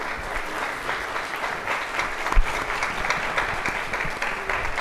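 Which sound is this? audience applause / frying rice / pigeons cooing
audience applause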